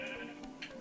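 A Minecraft sheep bleats once or twice in a short burst over a steady game background hum, fairly close and clear.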